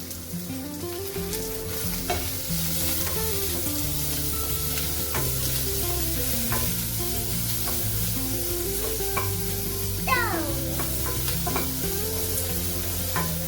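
Carrots, green chillies and other vegetables stir-fry in a pan for rava upma, a steady close sizzle with scraping stirs, while music plays throughout.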